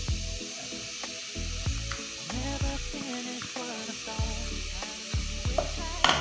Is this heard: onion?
yes